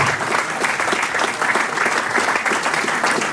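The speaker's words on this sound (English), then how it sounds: "Let's have a round of applause for our panel this evening" Audience at a football club fans' forum applauds the evening's panel, a steady, dense wash of many hands clapping close and continuous throughout, with no talk over it.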